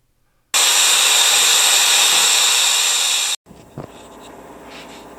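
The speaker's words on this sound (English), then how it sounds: "110 psi, and one end of the air hose fitting blew off." Air bursting from a blown-off air hose fitting at 110 psi, a loud continuous hiss lasting nearly three seconds that cuts off abruptly, followed by quieter clatter and rumble.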